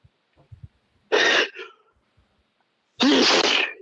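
Two sudden, forceful sneeze-like bursts, one short and one longer, separated by quiet with faint small sounds before the first.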